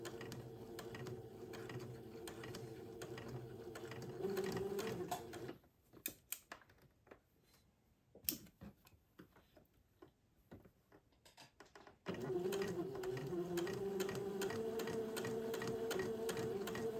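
A sewing machine stitches the front seam of a sleeve on a child's heirloom bubble outfit, sewing a 1/8 inch seam over entredeau. Two stretches of steady, close whirring are separated by a quieter pause with scattered small clicks.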